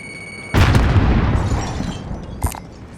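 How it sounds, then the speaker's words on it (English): A single loud grenade blast in the video game Call of Duty Warzone, a sharp boom followed by a rumbling decay, then a smaller pop shortly after, close and alone. "Throwing grenade."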